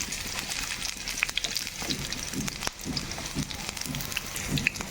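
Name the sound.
chopped onion frying in hot oil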